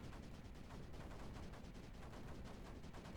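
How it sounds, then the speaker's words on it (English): Weapons fire ammo in the video game Creeper World 4, a dense, rapid stream of quiet gunfire-like bursts repeating without pause across the whole stretch, with no talking. "Give me some ammo. There we go. Ammo firing away."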